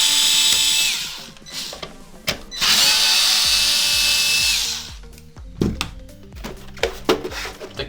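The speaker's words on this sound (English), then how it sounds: "You're going to want to unscrew these two screws." A power screwdriver fitted with a T10 bit backs screws out of an Xbox One X console, giving two long whirring runs followed by short clicky bursts and handling clatter, close up with no talk.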